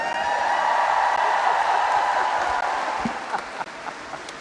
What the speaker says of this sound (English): They're just going to keep waving unless you cheer louder.